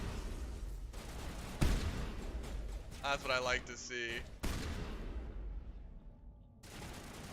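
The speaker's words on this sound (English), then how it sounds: "I think I've got explosive rounds on this shotgun." Loud video game shotgun firing explosive rounds, booming explosions, several shots spaced apart, while someone talks over the gunfire.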